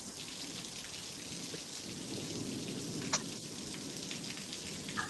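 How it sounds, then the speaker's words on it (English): Rain from a sudden storm pours steadily, a dense continuous hiss with scattered close drops tapping on a surface, unbroken by voices. "I think it's rain."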